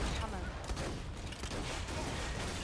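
Heavy gunfire and cannon blasts from a firefight in the video game Borderlands 2 roar as a dense, continuous barrage, with players talking over it.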